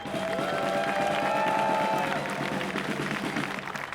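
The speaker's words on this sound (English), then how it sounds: "Un aplauso para Kate, applause for Kate." Applause from a protest crowd at a migrant justice rally, steady clapping and scattered cheers under a tonal whine and chatter, fairly loud and sustained throughout.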